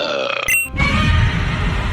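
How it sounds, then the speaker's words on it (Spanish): A loud, drawn-out burp in a scene from the 2021 Dune film, coming after a brief sharp tone and rumbling on with a deep, gravelly buzz. "Al duque la cena le sienta regular y se tira tremendo eructo."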